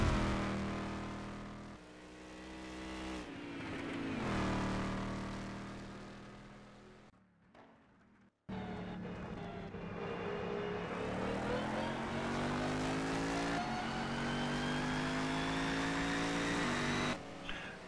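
Jeremy's car racing around the Nordschleife circuit, its engine droning loudly and rising and falling in pitch through gear changes, with a brief near-silent gap in the middle before the engine roars back steadily.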